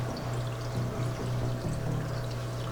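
Fish food pellets poured into a large aquarium tank holding turtles and tetras, a steady close watery trickle and splash with a constant low hum running underneath throughout.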